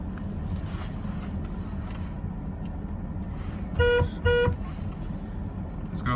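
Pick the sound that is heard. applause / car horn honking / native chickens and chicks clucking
car horn honking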